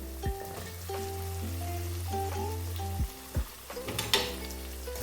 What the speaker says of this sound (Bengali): এখন সমস্ত উপকরণ খুব ভালো করে আমি মিক্স করে নেব